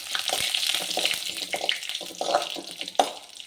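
Dried red chilies hit oil over a moderate flame, giving a faint crackling sizzle with scattered pops and light clinks, close and brief.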